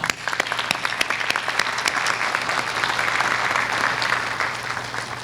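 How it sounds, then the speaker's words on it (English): A crowd at a college commencement ceremony applauds steadily, many hands clapping in a dense, continuous patter that holds at an even level throughout. "All of our Dukes deserve a round of applause."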